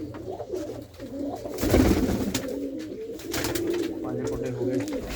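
Pigeons coo in a loft among fancy flying birds, one with blue eyes, a low burbling murmur that swells midway, with people talking over it.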